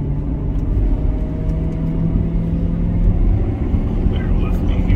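A manual C7 Corvette's engine drones loudly and steadily from inside the cabin during a test drive, with a rev-matched downshift going into a turn and a voice talking over it.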